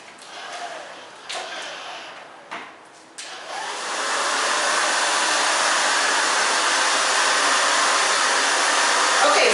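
A hair dryer blows on freshly cut and dyed hair for an asymmetrical bob, starting in uneven bursts amid handling noise, then settling into a loud, steady whoosh that runs continuously close by.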